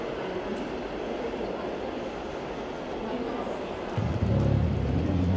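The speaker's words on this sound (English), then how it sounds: "an ICE service from Cologne is about to pull into platform 5" An ICE train from Cologne draws into platform 5 at Berlin Hauptbahnhof, a low rolling rumble under station ambience that swells louder toward the end as the train arrives.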